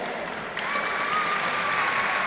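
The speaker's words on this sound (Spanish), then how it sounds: "Fuerte el aplauso para estos dos guerreros." Crowd applause for two fighters at a combat sports competition, steady and dense clapping filling the arena for the full stretch, with a faint voice over a loudspeaker underneath.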